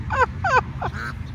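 Three loud, honking duck calls at a park in quick succession, each sliding downward in pitch, over a steady low rumble.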